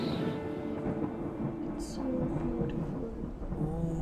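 A deep, continuous rumble of thunder rolling through the whole stretch, with a soft rain-like hiss underneath.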